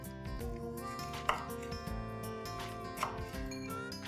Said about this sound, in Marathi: तिचा पुढचा आणि मागचा भाग थोडा कट करायचा आणि जरा बारीकच चिरायची।